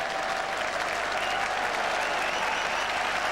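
A cricket crowd at Trent Bridge applauds in relief during the England v Australia Test match of 1989, a dense, steady wash of clapping heard from a distance throughout.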